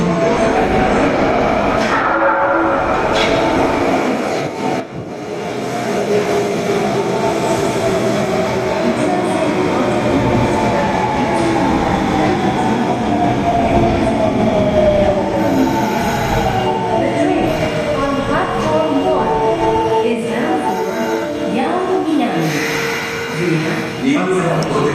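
An Osaka Metro Tanimachi Line subway train pulls into platform 2, its loud rumble and squealing wheels filling the station while a platform announcement plays over the noise.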